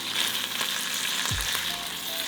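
Tomato paste and shrimp shells stir-fry in a pan over medium heat, giving a steady close hiss of sizzling with a brief low scrape or knock from stirring partway through.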